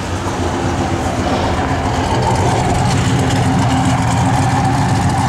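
A 1973 Chevrolet Camaro RS/Z28 V8 runs close up with a loud, steady throaty rumble that swells slightly as the throttle is blipped.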